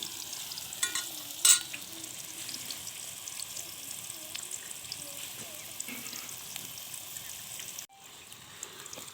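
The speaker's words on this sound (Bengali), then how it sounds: "আমি কচুটা তেল দিয়ে ভেজে নিব।" Taro (kochu) frying in hot oil in a wok, a soft, steady sizzle running throughout at low volume, with a brief louder clatter near the start and a short dip near the end.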